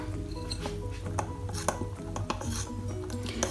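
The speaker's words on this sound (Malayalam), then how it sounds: "എന്നിട്ട് നന്നായി ഒന്ന് മിക്സ് ചെയ്തെടുക്കാം" Ground unniyappam batter mixed in a bowl, with irregular clinks and scrapes of a utensil against the bowl at close range, with no voices.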